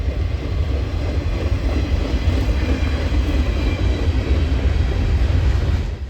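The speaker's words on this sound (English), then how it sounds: "I would catch E39 shoving their train towards Control Point Sumner with the caboose leading" Norfolk Southern train E39 shoving with the caboose leading, a steady low rumble of rolling cars with constant rail noise and no distinct horn or squeal; no voices.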